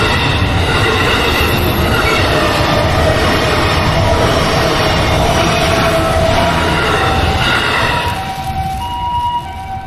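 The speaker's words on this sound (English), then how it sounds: "Train is going to Ome, down the Ome line, which is a trunk line." A train running on the Ome line, a trunk line in Japan, roars past close and loud for several seconds with steady rumbling and clattering noise and a high whine, then eases off slightly near the end. No one speaks.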